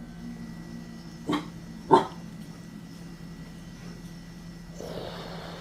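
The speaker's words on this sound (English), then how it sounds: "What are you barking at?" A dog barks twice, short and sharp with a pause between, over a quiet indoor hum, followed later by a softer muffled sound.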